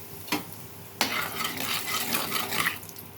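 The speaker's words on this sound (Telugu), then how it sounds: "ఇప్పుడు గుడ్లు కొంచెం లైట్గా వేయించుకుందాం ఫ్రెండ్స్" Eggs fry in a kadai with turmeric and salt, a spoon scraping and stirring through soft crackling sizzle in short uneven strokes, close and fairly quiet.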